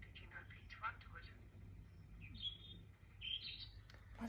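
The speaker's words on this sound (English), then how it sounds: "it's a beautiful sound though, the blackbird, isn't it?" A blackbird sings in short, bright, fluting phrases off in the distance, faint over a low background hum and quiet voices.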